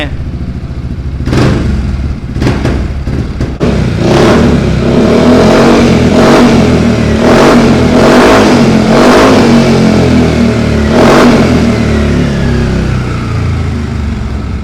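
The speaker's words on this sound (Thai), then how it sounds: "ฟังเสียงดูนะครับว่า เสียงแบบนี้ ท่อแบบนี้จะเสียงเป็นยังไง" A Yamaha XMAX 300 scooter engine revs repeatedly up close, its exhaust rising and falling in short bursts over a steady idling rumble.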